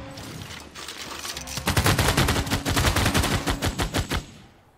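A machine gun unit attacks a camp in Civilization 6: a brief crackle leads into a loud, sustained stretch of rapid, evenly spaced gunfire that cuts off cleanly at the end.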